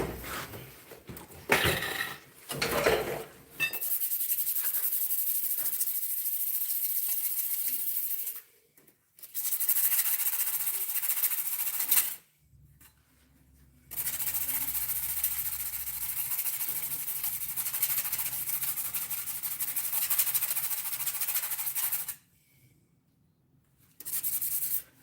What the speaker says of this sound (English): I just have a sandpaper block, polishing or sharpening my spatula here.